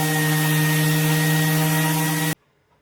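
A power sander with 80 grit sandpaper runs on a wooden desk slab, a steady loud whine with strong tonal hum that cuts off abruptly into near silence.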